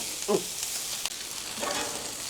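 Chicken and vegetables sizzle on a hot griddle in a soft, steady frying hiss, broken by a brief scrape or clink of a utensil stirring the food up close.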